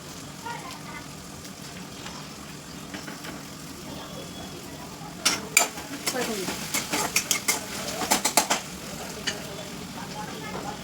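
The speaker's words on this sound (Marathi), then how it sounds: "याच्यामध्ये आता मी आलं लसूण पेस्ट टाकते थोडी" Ginger garlic paste fries with onion and tomato in a pan for a village-style jackfruit seed dish, with a low steady sizzle and then a run of sharp spoon clicks and scrapes against the pan.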